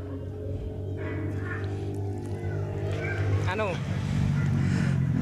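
A Mitsubishi Canter diesel truck out of fuel cranks on its starter, a loud continuous churning engine drone up close, with speech heard over it.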